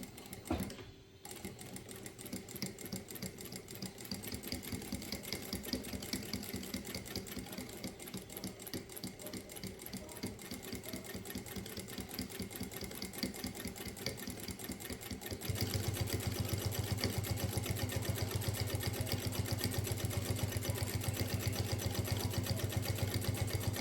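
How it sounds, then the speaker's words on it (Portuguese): A sewing machine runs steadily while topstitching a mini suitcase, backstitching at the start and end: a dense, continuous rapid stitching chatter that starts after a short pause and grows louder and heavier for the last third, with no talking. "eu vou passar um pesponto daqui do começo até o final, com retrocesso no início e no final"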